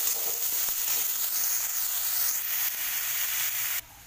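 Onion and garlic greens sauté in a pan, giving a continuous close hiss of frying that carries steadily before dropping off abruptly near the end; no one speaks.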